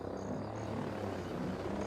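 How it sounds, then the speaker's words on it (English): Helicopter rotor and engine drone in the game Ghost Recon Breakpoint, a steady low thrum holding at moderate distance throughout with no break. "Chopper."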